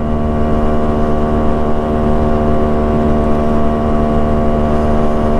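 A Yamaha RX135 motorcycle rides along an open road, its engine a loud, steady, close droning hum with strong even tones, holding constant throughout with no talk.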